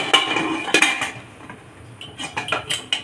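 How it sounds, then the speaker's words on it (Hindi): Metal clanks and clinks of a pressure cooker lid being handled and fitted onto the pot of boiling potatoes, several sharp knocks with quieter scraping in between. "प्रेशर कुकर का ढक्कन लगा देंगे।"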